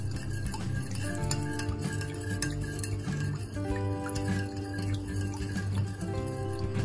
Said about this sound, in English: So about 20 seconds stirring for it all to dissolve.